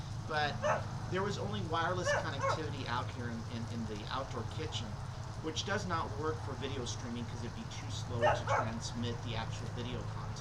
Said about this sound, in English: He's barking up a storm.